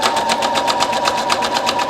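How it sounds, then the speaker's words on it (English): A sewing machine runs a regular straight stitch to gather fabric, a close, steady rapid chattering of evenly spaced needle strokes with a constant motor whine underneath. "So I'm just going to do a regular straight stitch."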